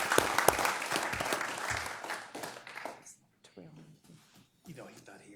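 Scattered applause from a council meeting audience for the coaches, a short round of clapping that fades out after a few seconds, followed by a few isolated claps and quiet room noise.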